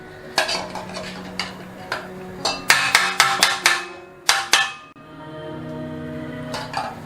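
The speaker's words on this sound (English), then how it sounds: "Now just give this a good mix." A spoon clinks and scrapes in a bowl while peppermint caramel treat is mixed, with sharp irregular knocks in uneven bursts, close and clear, without speech.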